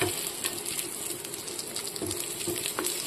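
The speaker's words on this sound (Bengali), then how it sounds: "এই যে আবার বেগুন ভাজছি" Eggplant slices fry in hot oil in a pan, a soft steady sizzle with light bubbling and a few faint clinks, heard alone at low level without any talking.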